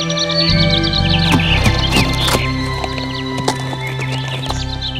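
A horse in a children's story moves off, with clip-clop hooves and a brief whinny set against chirping birds and a layered music bed, all fairly close and continuous.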